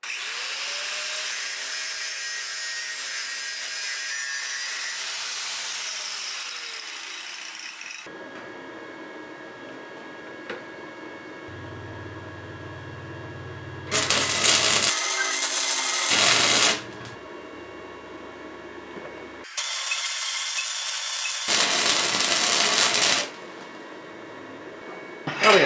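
A grinder works metal off a pipe on an old K10 truck in preparation for a weld, loud harsh grinding in two bursts with quieter gaps and rubbing between them.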